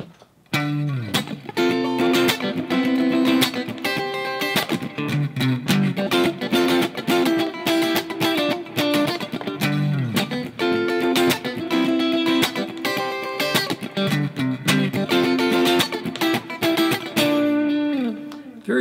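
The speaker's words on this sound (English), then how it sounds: "So we have a clean sound, pickup selector number 4 sounds like this." Clean electric guitar on pickup selector position 4 plays a part with dense strummed chords and melodic fills, full and continuous throughout at a steady level.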